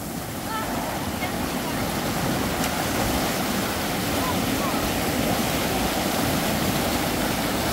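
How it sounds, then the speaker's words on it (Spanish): Steady broadband rush of a river flowing over stones in El Salvador, loud and continuous without breaks, with faint voices mixed in. "Rica el agua del río."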